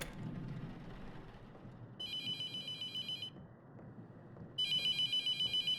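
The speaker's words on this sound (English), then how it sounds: "the fucking phone's ringing" A telephone rings in the horror game The Mortuary Assistant, two bursts of a bright electronic trilling ring separated by a pause, over a low dark ambient rumble.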